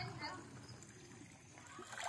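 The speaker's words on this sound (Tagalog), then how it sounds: "Scoop of water with the provided ladle and rinse your hands and mouth." Water is scooped with a ladle and splashed over hands at a Japanese shrine purification basin, giving a steady close splashing and trickling under a faint murmur of voices throughout.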